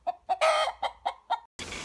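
A hen clucks close by in a series of short, sharp, evenly spaced clucks, with one longer drawn-out cackle early on, followed by a burst of outdoor noise at the end.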